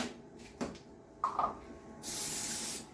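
Cooking spray misted into a cake pan in a kitchen, a short steady hiss lasting under a second after a few light clicks and handling knocks.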